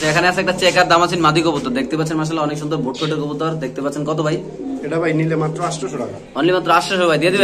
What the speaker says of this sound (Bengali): এখানে আছে একটা চেকার দামাসিন মাদি কবুতর